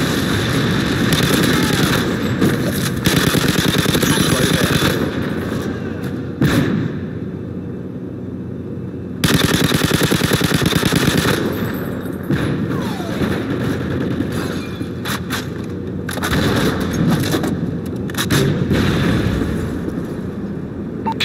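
A Predator missile strike lands during a video game firefight, producing heavy booming blasts and rattling gunfire that churn on continuously, loud and close, with the intensity rising and falling.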